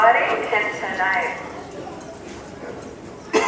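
Percheron-cross mounted police troop horses walk on hard ground at an open day drill demonstration, their hooves clopping faintly under a voice, with a sharp noise at the end.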